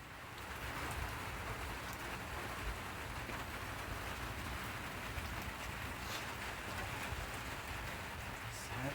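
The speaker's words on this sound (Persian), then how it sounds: "بارون باره" Steady, dense rain pours down on a cold, rainy day around a nomadic family's camp, a loud, unbroken hiss that fills the whole clip with no voices.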